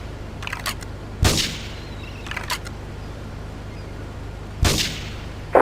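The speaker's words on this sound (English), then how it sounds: "that's reporting gunfire and explosions" Sharp gunshots crack out at intervals in the video game GTA 3, two loud blasts standing out among softer clicking bursts, with quiet stretches of background hiss between.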